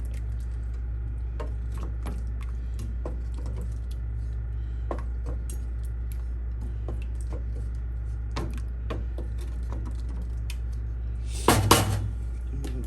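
A spoon stirs groundnut stew with red and orange Scotch bonnet peppers in a pot, making faint scattered clinks and taps over a low steady hum. One louder clatter comes near the end.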